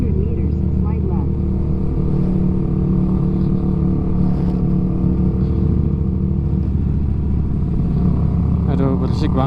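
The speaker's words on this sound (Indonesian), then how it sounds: "Ah berisiknya ini knalpotnya" A motorcycle with a noisy aftermarket exhaust drones loudly and steadily while riding toward a campground at the foot of Bromo, its engine note shifting slightly, with a rider's voice heard over it.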